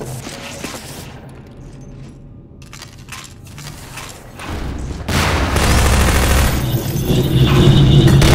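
Loud bursts of gunfire and booming blasts from Half-Life 2: Deathmatch, rising into a dense, continuous barrage of shots and explosions.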